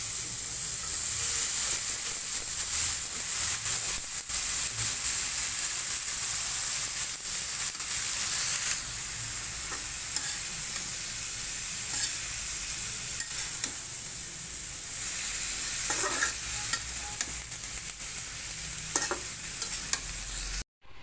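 Cabbage bhaji seasoned with chili powder and salt fries in a pan, a loud continuous sizzle with occasional stirring scrapes throughout, cutting off abruptly at the end.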